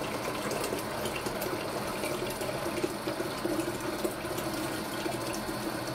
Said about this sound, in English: I'll go ahead and fill it up with warm or hot water.